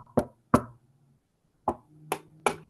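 Knuckles rap on the wooden case of a grandfather clock in an improvised stage performance: two sharp knocks, a pause, then three more, each close, hollow and resonant against a quiet background.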